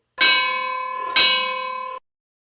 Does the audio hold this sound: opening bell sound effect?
yes